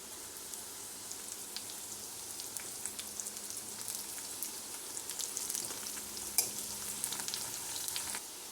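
Curry leaves crackle and fry in hot oil with roasting onion for a gutti vankaya masala curry, a steady close sizzle with scattered pops and stirring scrapes throughout.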